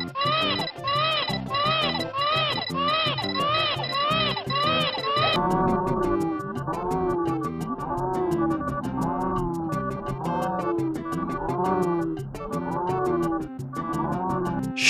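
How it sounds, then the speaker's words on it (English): Baby Mario wailing from his floating bubble in Yoshi's Island on the SNES, a loud, frantic looping cry over bouncy game music. The shrill crying repeats rhythmically and keeps going throughout, and its pitch drops partway through. "People really did not like Baby Mario's crying."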